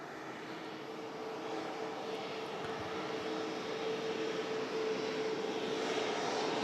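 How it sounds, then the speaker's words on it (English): An Aer Lingus Airbus A330 jet departs Manchester Airport bound for Orlando, its engines a steady, broad roar that slowly builds in loudness, with no voices. "Heading off to Orlando International. The Aer Lingus A330."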